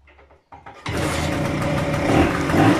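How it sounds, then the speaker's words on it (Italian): A Vespa PX scooter engine on its stand sputters a couple of times, then catches and settles into a steady, buzzing idle close by. "proviamo a accendere il motore."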